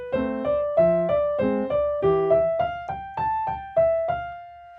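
Two bars of Scott Joplin's The Entertainer played on piano at a steady tempo, bouncing left-hand bass notes alternating with chords beneath a repeating right-hand pattern, close and clear with no voices.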